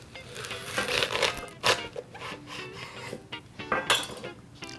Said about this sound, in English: we want to cut our leek in half lengthwise so we can get in there and clean it